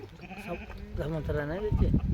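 Sheep bleating in a wavering, drawn-out series of calls at close range, the bleats coming loud and overlapping with low background noise on a farm.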